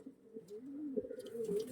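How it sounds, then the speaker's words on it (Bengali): Pigeons cooing close by, a low soft warbling coo repeated in a couple of rolling phrases, fairly quiet with faint background noise and no talk. "একদম অরিজিনাল জেনারেশনের পায়রা দেখুন"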